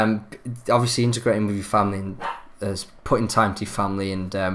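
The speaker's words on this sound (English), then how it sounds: "I had the dog going off in the background" A dog barks in the background, under a person speaking steadily close up in a home setting.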